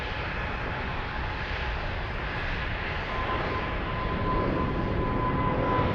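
A Boeing 777 airliner at Frankfurt airport gives off a continuous broad jet roar that swells slightly louder toward the end.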